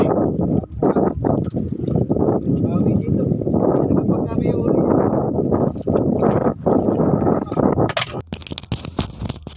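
Loud, continuous wind buffeting on a fishing trip dominates throughout, with rough roaring gusts and a few sharp knocks near the end.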